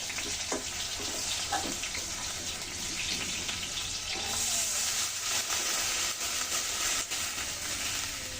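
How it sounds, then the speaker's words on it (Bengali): Water is poured into a curry frying in a pan, a continuous sizzling hiss with splashing and bubbling that holds steady throughout. "এখন জল দিয়ে দেবো।"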